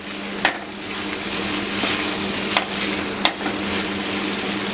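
Chilli paneer folded with spices and gravy in a hot pan sizzles in a dense, even hiss, with a few sharp spatula taps against the metal.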